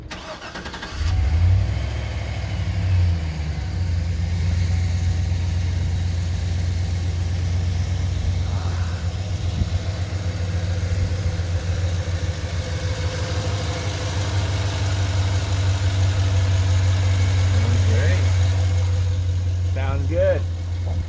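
Chevy Suburban work truck engine cranking, catching and settling into a steady, even idle that runs close and loud for about twenty seconds, with faint talk over it.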